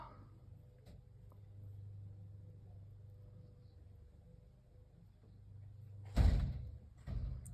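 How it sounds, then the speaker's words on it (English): A front door slams once near the end, a loud close thud followed by a second softer knock, after a stretch of quiet room hum. "He keeps on slamming the front door."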